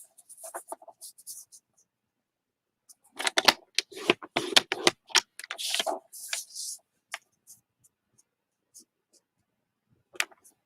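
Paper being scored at one inch on all four sides for a Paper Pumpkin craft, heard as a run of close, dry scratching and clicking strokes in short bursts with quiet pauses between.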